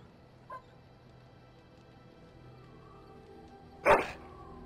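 A dog in a fantasy role-playing video game gives a single short bark, preceded by a faint yip, over a low ambient game background.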